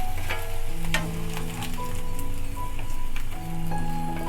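Okra frying in oil in a pan for a dhaba-style masala curry, a steady close sizzle and crackle with faint stirring clinks, no talk.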